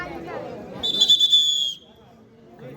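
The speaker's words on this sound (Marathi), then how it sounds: "पुन्हा एकदा पंचांची शिट्टी वाजते, सामन्याला सुरुवात होते" A referee's whistle blows once at a kabaddi final, one shrill sustained blast of just under a second, loud over a crowd's murmur and a commentator's voice.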